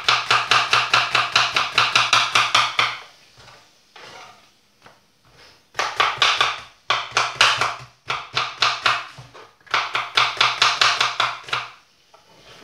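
A knife chops onion into thin julienne strips on a board in quick, even runs of crisp taps, pausing between batches, close and clear with no talk.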